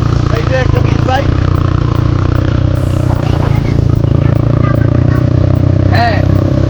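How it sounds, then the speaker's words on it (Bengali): A beach bike's engine runs loudly and close with a steady droning rumble, with people talking over it throughout. "ঘটনা হলো আমরা এখন বিচ বাইকে করে চিল করতে করতে যাই।"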